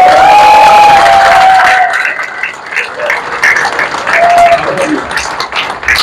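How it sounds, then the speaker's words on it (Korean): At a National Assembly gathering, a crowd applauds and cheers, with clapping mixed with shouts and crowd voices; the noise dips midway before rising again. "우리 국회의원들이 여러분께 큰 박수 보내겠습니다"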